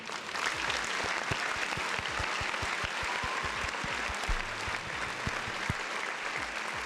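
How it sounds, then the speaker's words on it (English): Dense, continuous clapping from a crowd, a steady roar of many hands that holds at an even level the whole way through. "Big round of applause"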